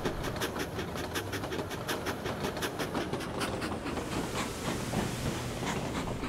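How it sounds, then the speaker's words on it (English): Train in the LEGO City Undercover video game brought to a stop and reversed a short way, giving a steady rumbling hiss with rhythmic clicking wheel beats over the rails, continuous and moderately loud with no talk. "I'm going to stop the train and reverse it a little ways with the left trigger,"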